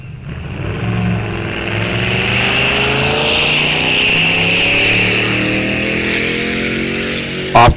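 A '55 Chevy and a '41 Willys launch side by side off the line at a drag strip, engines roaring loud and sustained, pitch climbing through gears as they pull away, with no talking.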